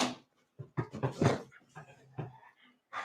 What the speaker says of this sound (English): my dogs are being silly